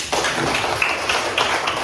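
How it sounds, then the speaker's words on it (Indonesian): A class claps hands together in a classroom, a dense, close burst of rapid clapping that starts abruptly and holds steady for nearly two seconds with no talking. "Tepuk tangan dulu"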